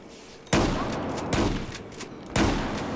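Remington 870 pump shotgun blasts in Battlefield 4, three loud booming shots about a second apart, each with a rolling tail that fills the gaps between them.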